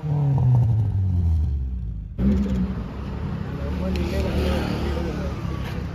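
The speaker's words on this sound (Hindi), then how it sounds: "एग्जॉस्ट नोट आपको सुनाते हैं" A Mitsubishi Cedia Sports 2.0 engine and exhaust drone while the car is driven, with a low rumble that shifts as it revs, the sound steady and close inside the cabin.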